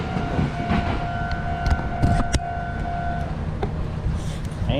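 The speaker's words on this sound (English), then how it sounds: "here comes the train." A main line train passes near a crossing in Aichi, Japan, with a rumbling rush of wheels under the fading two-tone crossing alarm, moderately loud and continuous.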